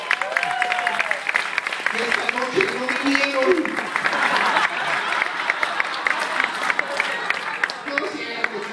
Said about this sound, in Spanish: Fuerte el aplauso para todas las bellas damas.